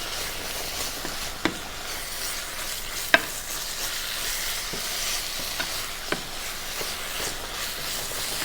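Vegan Impossible meat sizzles steadily in a hot pan while a utensil stirs and scrapes it, a few sharp clinks standing out over the continuous loud frying hiss.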